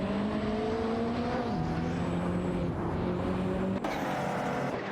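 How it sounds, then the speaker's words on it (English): Ferrari F40 LM race cars howling around a track in a racing video game, engines droning with rising and falling pitch as gears shift, one car sustained up close with another whining behind. "It's a duel of the Ferrari F40 LMs on the track."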